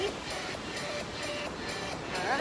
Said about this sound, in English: So hopefully with that ocean behind me, you can still hear me.